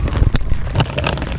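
Gusty sea wind buffets the microphone during kayak fishing on open water, a rough low rumble with a sharp burst partway through and no clear talk.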